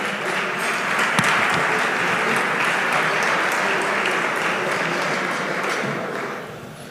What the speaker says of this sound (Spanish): un aplauso para Patricia, por favor